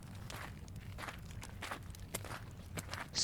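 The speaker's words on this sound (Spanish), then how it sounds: "Solo escuchaba mis pisadas sobre la grava." Footsteps crunch over gravel at night in a quiet village, a steady walking rhythm of soft scuffs, close and fairly faint, with no voices.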